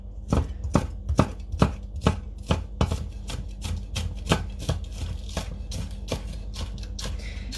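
A knife slices spring onions on a cutting board, a rapid run of crisp close chops in a steady rhythm, about two or three per second, with no talking.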